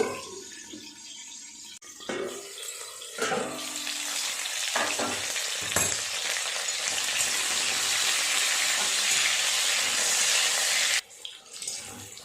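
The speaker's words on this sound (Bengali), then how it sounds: "চাপা দিয়ে দুটো পাশ এইভাবে উল্টো পাল্টে ভালো করে ভেজে নেব" Pointed gourd (potol) pieces fry in a pan, starting with a few clattering knocks and bursts before a loud, dense, steady sizzle builds and runs on, then cuts off near the end as a lid or pan shifts.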